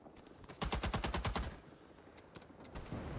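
Automatic gunfire in a war video game, a rapid burst of about a dozen evenly spaced shots followed by a few scattered single cracks, fairly quiet in the mix and with no talk.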